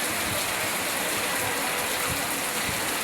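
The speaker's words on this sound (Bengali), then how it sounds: "অঝরে বৃষ্টি পড়তেছে, আপনারা দেখেন।" Heavy rain pours steadily onto a street in a dense, loud, unbroken hiss with no voices.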